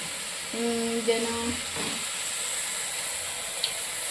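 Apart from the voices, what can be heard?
broccoli frying in oil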